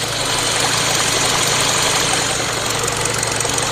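A 2019 Kia Ceed engine idles under the hood with a steady, close mechanical hum and even ticking, running continuously at a fairly loud level with no voices.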